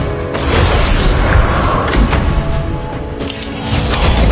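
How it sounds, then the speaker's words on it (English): A turret blows up in the Honor of Kings mobile battle game, a dense booming crash with clattering debris that sits at steady loudness throughout, mixed into busy in-game sound. "Your team has destroyed a turret."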